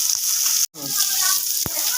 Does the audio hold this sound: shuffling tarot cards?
no